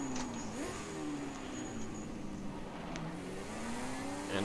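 A 1967 Ford race car in a 1966 Le Mans recreation game drives steadily, its engine holding a mid-pitched drone with small rises in pitch as it shifts and accelerates, heard close with no talking.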